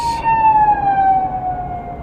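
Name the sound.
ambulance siren passing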